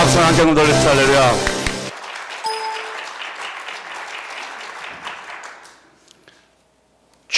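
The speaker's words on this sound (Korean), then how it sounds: "박수 한 장 돌려주세요." Congregation applause fills a church during a Sunday service, a dense wash of clapping that follows a loud burst of music and lasts several seconds before thinning out and fading.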